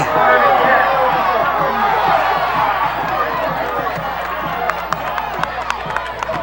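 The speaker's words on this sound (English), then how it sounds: "the jeers, was it, from the crowd?" A high school football crowd at a 1994 Delran versus Kingsway South Jersey Group 2 semifinal, a loud roar of voices that fades gradually, with scattered claps and shouts near the end.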